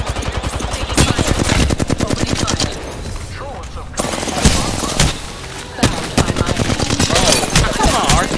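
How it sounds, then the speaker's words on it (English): Heavy automatic weapon fire in Apex Legends, dense bursts of rapid shots that stop and start across several seconds, loud and close, with a short quieter gap midway. "Taking fire! Opening fire!"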